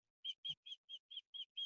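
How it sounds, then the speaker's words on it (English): A bird outdoors gives seven quick, evenly spaced high chirps in a faint, clear series with nothing else heard. "hearing the birds"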